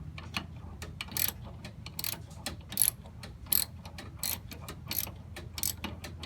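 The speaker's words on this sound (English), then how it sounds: "Put your hand on the socket so when you're spinning it around, it doesn't turn back on itself." Rapid, steady clicking of a ratchet socket being spun while removing the master cylinder from a 1985 Jeep CJ7, close and moderately loud, with short repeated strokes throughout.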